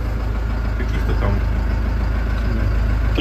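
A Bizon 777 combine harvester's engine runs at a steady, loud idle, a continuous close rumble that does not change.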